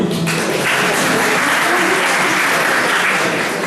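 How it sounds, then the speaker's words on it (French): Audience at a conference breaking into applause, a loud, dense burst of clapping that swells quickly and stays full and close for the whole stretch. "nous pouvons l'applaudir"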